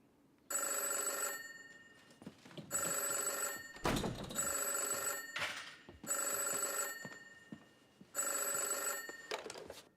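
A telephone rings in five long, regular bursts of bright electronic tone separated by short pauses, with faint knocks and movement between rings and no voices.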